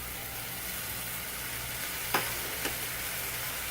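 A London broil sirloin steak sizzling in a hot pan after being flipped: a steady, dense frying hiss throughout, close and even, with two brief sharp ticks partway through and no talk.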